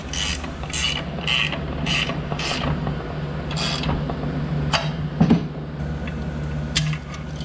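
Mechanical clicking and ratcheting as a transmission shaft is tightened down with a bearing splitter used as a spacer in the bore, rhythmic close metallic ticks over a steady low hum, no voices.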